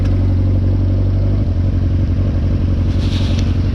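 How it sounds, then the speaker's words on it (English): Smoky, badly running motorcycle engine idling and chugging close by, a steady loud low rumble with a rapid pulsing beat and slight clatter that continues throughout. "A smoky motorcycle, that's that shit I don't like."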